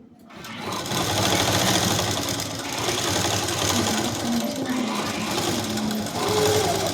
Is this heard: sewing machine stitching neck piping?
yes